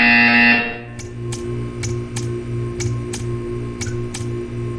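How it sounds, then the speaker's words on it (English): A repeating buzzer from the Portal 2 video game's art-staring test chamber, sounding as a steady series of sharp, evenly spaced pulses about every half second after a brief louder tone at the start. "You will hear a buzzer. When you hear the buzzer, stare at the art."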